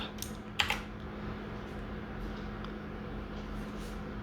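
Quiet, rapid keystrokes on a computer keyboard while code is entered, light irregular clicks over a soft steady room hum.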